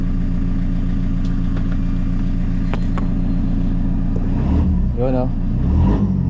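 A Toyota Commuter van engine idles steadily near 900 RPM, then revs up as the accelerator is pressed, rising in a loud swell late on, while someone talks over it.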